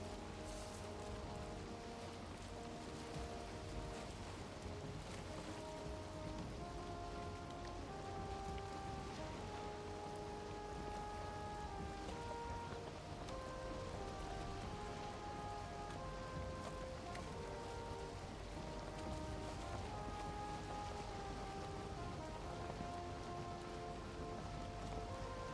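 Steady rain falls in the swamps of the video game Valheim, a continuous hiss that holds level throughout, with soft tonal game music notes drifting underneath and no talk.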